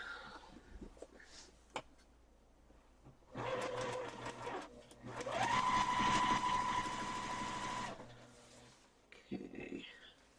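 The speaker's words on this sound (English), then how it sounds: "let's go back to stitching this" Sewing machine stitching a quilt, bursts of rapid mechanical whirring, one short run and then a longer, louder steady run with a rising motor whine, between quieter handling sounds in a room.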